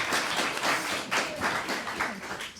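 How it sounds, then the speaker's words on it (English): An audience claps for a speaker being welcomed on stage at a talk about being Black in Europe, a fairly faint, steady burst of applause in a hall that lasts a few seconds. "Give her a round of applause, ladies and gentlemen."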